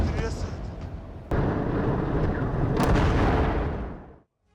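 Airstrike explosions in Gaza as buildings collapse give a long, loud, rumbling roar with sharp blasts layered over it, then cut off abruptly.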